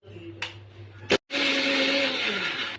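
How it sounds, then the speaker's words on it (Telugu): A kitchen mixer grinder whirs as it blends shallots and salt for cucumber chutney, with a couple of short knocks and a brief pause before the motor runs loud and steady to the end. "వేసుకొని ఇది కొంచెం మిక్సీ పట్టుకోండి"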